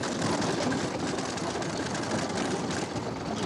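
A 4WD vehicle grinds along the rutted, corrugated Gunbarrel Highway, giving a steady, dense rumble and rattle of engine and bodywork that stays loud and even throughout, with no voices.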